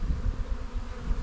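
Honeybees in an opened hive fill the air with a steady, dense buzz, a continuous low drone holding even throughout with no voices over it.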